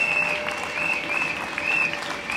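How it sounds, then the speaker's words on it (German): Steady applause from a political rally crowd in a European city street, sustained clapping with a few whistles over it, fairly distant and even throughout. "Großer Applaus für euch."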